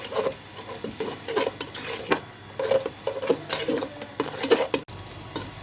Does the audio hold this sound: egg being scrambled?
yes